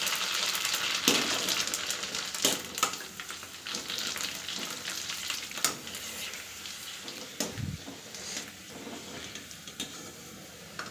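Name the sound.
frying fuchka (panipuri) puris in oil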